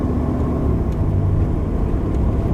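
A van drives along the road without a spare tire, its steady, loud low engine and road rumble droning continuously from inside the cabin with no speech.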